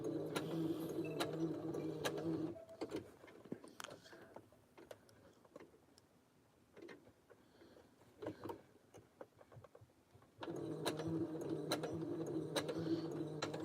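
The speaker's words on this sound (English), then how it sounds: "I really can't tell when I'm even sewing in here anymore." Sewing machine stitching fabric indoors, with bursts of rapid mechanical whirring at the start and end separated by a quieter stretch of scattered clicks and handling noises.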